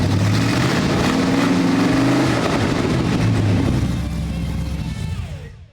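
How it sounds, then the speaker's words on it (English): A restored square-body tow truck engine catches after cranking and gets a couple of throttle blips, a loud, close rumbling roar swelling and settling before fading out at the end. "With the flick of a key, we were able to crank up the engine and give it a couple pops of the throttle."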